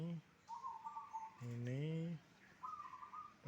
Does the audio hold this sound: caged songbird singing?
yes